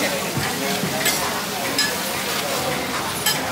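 Food sizzles and crackles in a pan at a night market street stall amid busy outdoor chatter, with occasional utensil clinks and scraping over a steady crowd hum.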